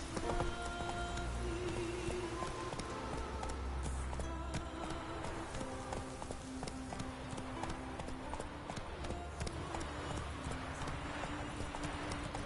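Roach the horse trotting in a video game, steady clip-clop hoofbeats in a continuous rhythm, close and clear over ambient game sounds, with no speech.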